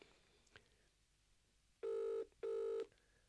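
An outgoing telephone call rings back twice, each ring a loud, steady electronic tone lasting under half a second with a brief gap between, after a quiet stretch.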